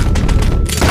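A loud, booming gunshot in Red Dead Redemption 2 on a hunt, a heavy blast with a rolling tail followed by another thump, close and alone without talk.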